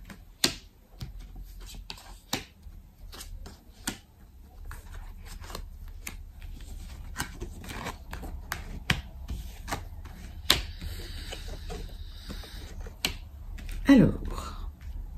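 Tarot cards shuffled and drawn for a reading, sharp scattered snaps and flicks of card stock interspersed with soft rustling, close and fairly quiet, while a voice talks quietly in the background.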